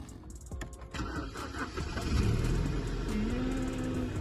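A BMW 3 Series 318i cranks over, catches and settles into an idle. A short rise in engine pitch is followed by a steady hum, heard close with no talk.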